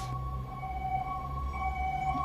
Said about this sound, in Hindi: Emergency, ambulance going in.